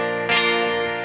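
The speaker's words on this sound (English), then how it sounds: "Put the echo on. Then you hear it sounds a bit more echoey." Clean acoustic guitar chord run through an echo effect in GarageBand on iOS, sustained ringing notes with a swelling repeat, steady and fairly loud with no talk.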